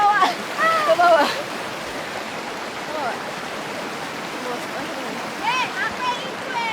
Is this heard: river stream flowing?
yes